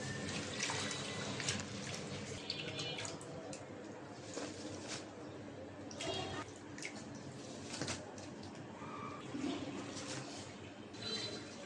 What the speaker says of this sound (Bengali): তো শাকটা ধুয়ে নিচ্ছি